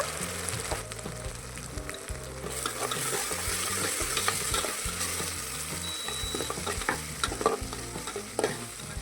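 Ginger garlic paste and green chillies frying in a pan for mutton rice porridge, a steady close sizzle with frequent scraping stirs and clinks of the spoon, no voices.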